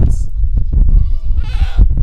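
Goats bleat on a farm in several loud, close calls, each a short wavering cry in quick succession, with a higher-pitched kid-like bleat standing out near the end.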